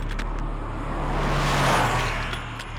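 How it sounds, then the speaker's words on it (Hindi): Priyanka Chopra's car rumbles close by, its engine noise swelling and then easing off in a continuous low drone with broadband road hiss, and no talking. "ये प्रियंका चोपड़ा की गाड़ी है।"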